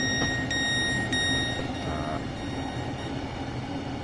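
Train rolling along in a train-driving video game, a steady dense rumble with faint high tones and brief clicks early on, continuous and fairly loud without speech.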